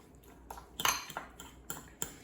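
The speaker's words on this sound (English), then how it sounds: "I take a fork and I just chop it up and shred it up into little shredded" A fork taps and scrapes on a plate while shredding cooked chicken, giving quiet, irregular clinks spaced about half a second apart in a hushed kitchen.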